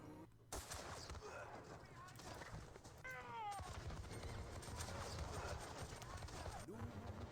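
Musket volleys and artillery fire from a Napoleonic wargame, the Battle of Dennewitz, crackle in dense rolling bursts, with someone talking over the steady gunfire throughout.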